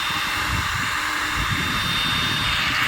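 An Ingco heat gun runs at full speed with a steady, loud, close-up rushing roar like a small jet blower. The sound holds even throughout, with no voices.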